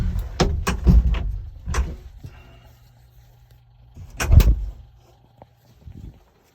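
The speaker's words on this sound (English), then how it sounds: "Bring the door down." Cab door on a Kubota CM-40 swinging shut, heard as a few sharp knocks and thuds near the start, a quieter stretch, then one louder close thump with a brief rattle at about four seconds, close by.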